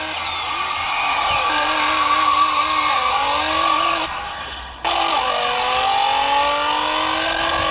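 Racing car engines roar and rev continuously in the Fast & Furious: Legacy mobile racing game, with rising pitch sweeps through gear changes, a brief dip near four seconds, then a loud resurgence, no voices.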